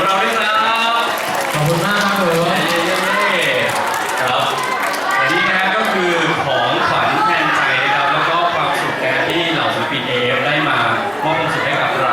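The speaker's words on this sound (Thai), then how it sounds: "ขอเสียงปรบมืออีกครั้งนะครับ ให้กับผู้โชคดี" A crowd at a New Year party applauds a lucky prize winner, a sustained wash of clapping and cheering mixed with chatter and laughter, while a host talks over it through the whole stretch.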